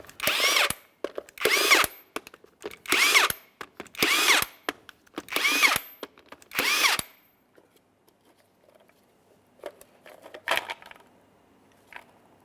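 Power tool with a 22mm socket spinning off the plastic lug nut covers on a 1999-2006 Chevrolet Silverado 1500 front wheel, six loud close whirring bursts in steady rhythm, then quiet clinks and handling noises.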